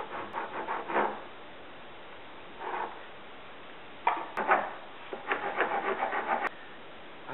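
A wood rasp files the arch of a handmade solid-wood turkey box call in short rough scraping strokes, some single and some in quick rhythmic runs, close and fairly quiet.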